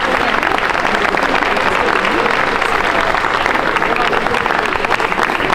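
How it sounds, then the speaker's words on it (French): Crowd at an omelette contest during an agricultural fair applauds loudly and continuously, a dense wash of clapping that holds steady through the whole stretch. "on peut je pense les applaudir bien fort"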